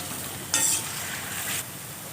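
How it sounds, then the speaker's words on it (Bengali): Palm fruit fritters made with rice flour deep-fry in hot oil, a steady close sizzle that swells into a louder bubbling burst for about a second, likely as more batter goes in, with no speech. "এরকম লাল লাল করে আমি এগুলোকে ভেজে নেব।"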